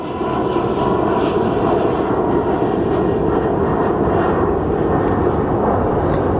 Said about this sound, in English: This is a 737 MAX.